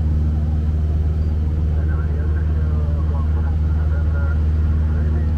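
A light aircraft engine drones steadily and loudly as the plane banks to line up for landing from the west over the Bohemian countryside, with talk running over the constant rumble.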